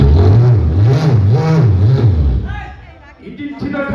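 A voice mimics a cold 50cc motorcycle engine trying to start, with a loud rhythmic sputtering hum that wavers up and down for about two seconds before fading into other vocal noises.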